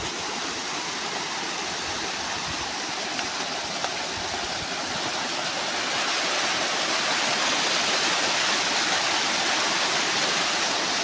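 A steady, dense roar of falling water from Gokak Falls fills the whole clip, broad and constant, growing slightly louder toward the end.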